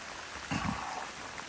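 Heavy rain drums on a Kodiak Canvas 10x10 canvas tent in a steady, close hiss, with a couple of soft dull thumps near the middle.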